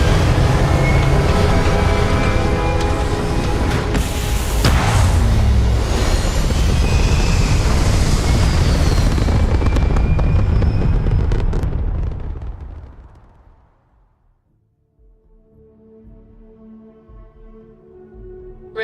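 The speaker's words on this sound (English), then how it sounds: "Liftoff looks good. All systems go." A spaceship lifting off in the video game Starfield, its rocket engines firing in a loud, sustained broadband roar that thunders close for about twelve seconds, then fades away into quiet low electronic hum.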